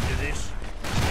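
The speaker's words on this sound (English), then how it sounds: "Explosion one after the other." Game explosions from the shooter Guns Gore & Cannoli burst in quick succession, loud and dense with broadband noise, while a voice talks over them.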